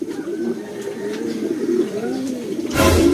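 Racing pigeons back in the loft after a race coo in soft, repeated rolling phrases close by, with a louder rustle or flutter bursting in near the end.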